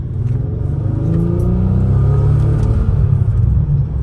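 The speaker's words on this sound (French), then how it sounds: "Donc là, on sent que la voiture, elle décolle." A Bentley with a W12 engine accelerates hard, a loud, close engine rumble that stays strong and steady for about four seconds.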